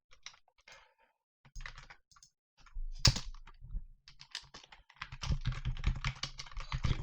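Code typed on a computer keyboard, irregular bursts of close key clicks with short pauses between them and one sharper clack, then a denser, faster run of keystrokes toward the end, with no talking.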